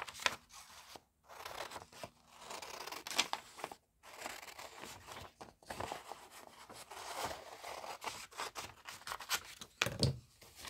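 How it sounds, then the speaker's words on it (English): Scissors cut loosely around a traced paper shape for a journalling craft, producing close, irregular bursts of crisp snipping and rustling paper separated by brief pauses. "Now I'm just going to loosely cut around it so it's easier to work with."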